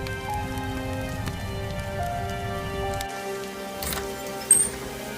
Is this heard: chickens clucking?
no